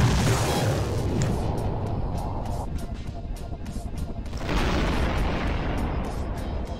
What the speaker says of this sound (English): I want to watch this explosion happen.